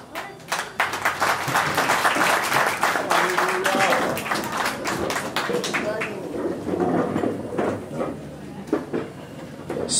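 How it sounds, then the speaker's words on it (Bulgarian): Guests clap in applause at a civil wedding ceremony, a dense, continuous patter of hands filling the room at close range, with voices rising over it. "Може да пляскате."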